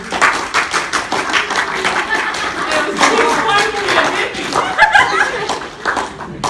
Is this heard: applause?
yes